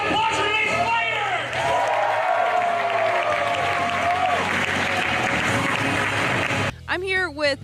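A convention crowd at Wizard World 2016 applauds loudly with cheers and whoops, a thick wash of clapping that ends abruptly into a brief spoken voice at the close.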